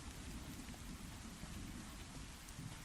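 Heavy rain pours down in a steady, dense wash with a low rumbling underneath, like distant thunder rolling through the storm. No voices are heard.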